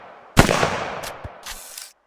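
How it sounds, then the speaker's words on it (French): A loud burst of video-game gunfire erupts, followed by a couple of fainter shots trailing off, with no talking. "Je lui ai mis 3 balles."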